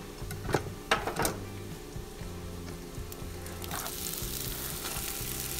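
Onions frying in peanut oil in a pan for Hyderabadi chicken biryani: a few sharp clatters at the start, then a steady, close bubbling sizzle that grows slightly louder.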